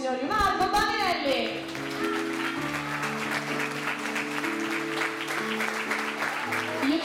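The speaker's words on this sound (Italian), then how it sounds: "Voglio sentire l'applauso forte per colui che è al mio fianco ormai dal 2009, signori, Marco Baninelli!" An audience at an outdoor dance show with an orchestra claps steadily, the applause mixed with sustained music tones after a brief burst of voice at the start.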